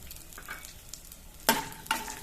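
Peanuts fry and roast in a pan for millet upma, giving two short, close sizzling bursts as they are stirred, over a faint background hiss.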